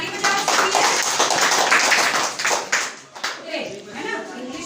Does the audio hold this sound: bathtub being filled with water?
no